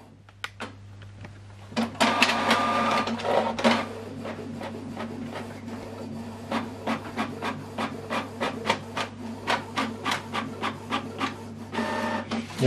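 A Canon TR4750i inkjet printer prints a test page: a steady low motor hum under repeated rhythmic mechanical print-head passes and paper-feed clacks, close and moderately loud, with no talking.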